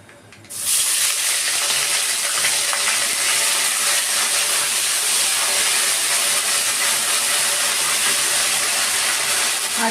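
Nigella seeds and ginger paste hit hot oil left from frying potatoes, bursting into a loud, steady broadband sizzle after a brief quiet start and holding unbroken to the end.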